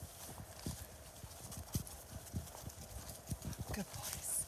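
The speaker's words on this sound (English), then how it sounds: "Dante always sounds like a horse when he comes cantering past you." A spaniel canters past on a countryside walk, its rapid thudding footfalls sounding like a horse's hooves, a quick rhythmic series of soft beats close by over faint background noise.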